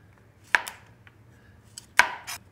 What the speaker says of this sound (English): So what I like to do is just cut the stalk in little rounds.